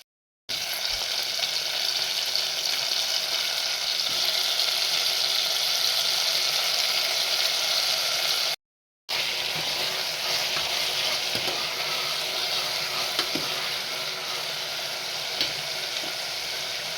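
Spices fry and sizzle in a pot of hot oil as they are stirred for a vegetable dish, a constant close hiss with light scraping of the spoon and a brief break partway through.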